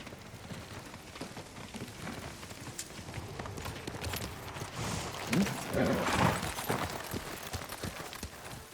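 Rapid clip-clop of horse hooves on a hard surface in the PS5 game Ghost of Tsushima, steady and fairly close, mixed with a rain-like patter and occasional louder rustles.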